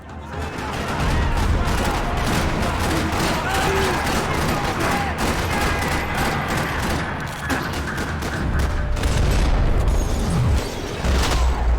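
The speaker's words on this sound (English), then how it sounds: "Another parking lot rattling with gunfire." Dense, continuous gunfire in the PC game Max Payne 3 rattles with booming bursts and sharp pops, a chaotic parking-lot firefight that stays loud throughout, with voices mixed faintly into the noise.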